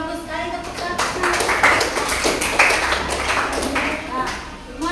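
Children in a classroom clap their hands together in a quick, dense burst of applause, loud and close, with voices talking over it throughout.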